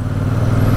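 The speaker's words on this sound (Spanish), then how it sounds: "sentir el pulso del motor y hacerlo funcionar a bajas vueltas" A 2023 Royal Enfield Super Meteor 650 motorcycle runs at low revs, its engine giving a close, loud, steady low throb with a rumbling pulse and no talk over it.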